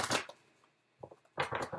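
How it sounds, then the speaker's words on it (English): Tarot cards are shuffled by hand in two quick papery bursts, one at the start and a longer one after a short quiet gap, close and fairly soft. "One more shuffle."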